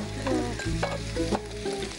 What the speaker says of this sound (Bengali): এর মধ্যে পেঁয়াজগুলো দিতে, কিন্তু পেঁয়াজটা বেশি ভাজা হবে না?